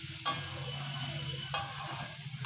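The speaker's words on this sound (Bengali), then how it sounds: "মশলাটা দিয়ে ভালো করে নাড়তে হবে বেশ কিছুক্ষণ নাড়তে হবে" Amla pickle with spices is stirred in a pan, a spoon scraping the metal in two sharp strokes over a soft, steady sizzle, close and without any talking.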